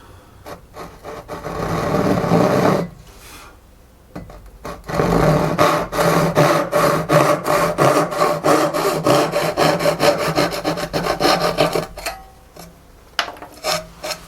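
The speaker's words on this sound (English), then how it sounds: "That's the Bad Axe Toolworks 12-inch hybrid tooth small tenon and dovetail saw" A Bad Axe Toolworks 12-inch hybrid tooth small tenon and dovetail saw cuts dovetails in wood with a steady run of rasping back-and-forth strokes, close and fairly loud, pausing once briefly before continuing.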